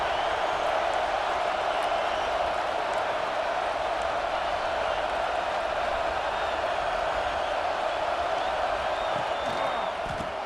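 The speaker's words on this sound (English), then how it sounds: "listen to this crowd noise. This stadium is vibrating." Stadium crowd noise in a football video game forms a dense, steady roar with occasional whoops, sustained evenly and loudly under a commentator's voice.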